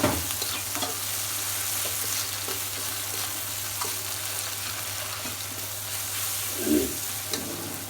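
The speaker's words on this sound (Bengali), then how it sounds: "তাড়াতাড়ি যেন পেঁয়াজগুলো ভাজা হয়ে যায়।" Sliced onions sprinkled with salt fry in hot oil in a pan, giving a steady, close sizzle with faint stirring scrapes and one brief bump near the end, with no talk.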